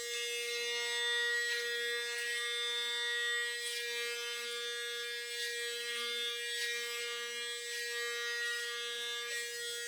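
Electric shaver, a Panasonic ARC 6 or Philips 5000, buzzing steadily and close up for the whole stretch, with a constant high motor whine and slight changes in pitch as the head moves across stubble on the skin.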